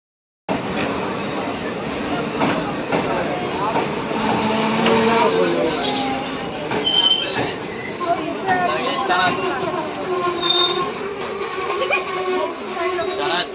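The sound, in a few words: Silchar Express train standing at Kumarghat platform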